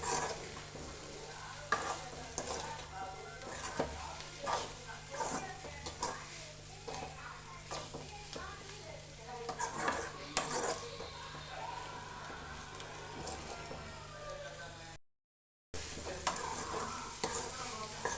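Carrot and potato pieces fry in a pan for a carrot curry, with steady stirring scrapes and a soft sizzle running throughout, close and moderately loud, broken by one brief silent gap near the end.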